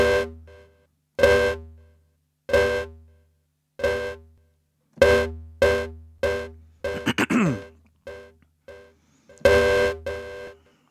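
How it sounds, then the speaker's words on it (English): Sylo synth on an iPad playing short repeated notes through delay and echo, each hit trailing off in fading repeats, with a brief warbling sweep midway; moderately loud with no voices. "And delay and echo."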